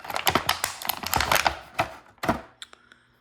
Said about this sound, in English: And then some crinkling noises coming up again.